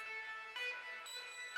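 A bright, buzzy synthesizer holds layered high-pitched tones, shifting chords twice in a short, distorted electronic phrase.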